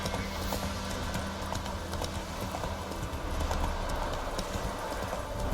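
Roach, the horse in The Witcher 3, trots along with a sustained, even clip-clop of hooves that stays at a constant level over a dense ambient backdrop, with no one talking.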